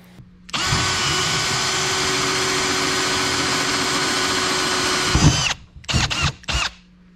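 Power drill boring a hole through a Ski-Doo Expedition snowmobile cargo box, a steady high whine running for about five seconds up close, then cutting out and followed by a few short bursts.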